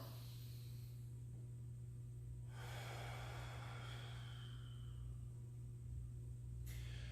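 A slow, deep inhale during a warm-up exercise, a broad airy rush of breath lasting a few seconds, close and fairly quiet over a steady low background hum.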